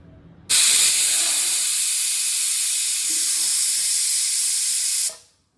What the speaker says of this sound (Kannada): ಕುಕ್ಕರಲ್ಲಿ 3 ವಿಷಲ್ ಕೂಗಿಸ್ಕೊಳ್ಳೋಣ